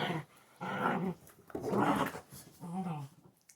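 Several Central Asian Shepherd puppies growl and bark in a close, lively cluster of bursts, with short gaps between the noisy outbursts.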